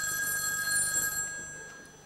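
A telephone rings in a stage musical scene, a sustained electronic bell-like tone with steady high partials, fairly faint and alone for about two seconds before someone answers.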